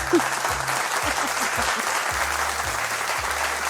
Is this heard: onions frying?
no